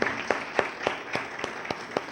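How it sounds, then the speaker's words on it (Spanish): Audience applause follows a call to honor staff of a Spanish-language institution, heard as faint, sparse clapping in a quiet hall, with about eight separate, distinct claps spread evenly over the span. "Yo quisiera pedirles un aplauso para los compañeros de la superintendencia."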